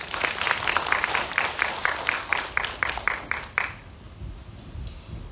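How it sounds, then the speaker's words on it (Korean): An audience of parents at an academy's college-admissions information session claps in unison, a steady rhythmic run of claps lasting about three and a half seconds before stopping and leaving quiet room tone. "좋은 말씀 전해주신 라종훈 원장님께 다시 한번 박수 부탁드립니다"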